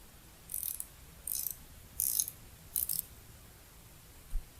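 Metal tool work on a bolt holding a bevel shaft during a Crosley engine teardown, four short bright ratcheting bursts at a steady pace, close and fairly crisp, followed by a soft clunk.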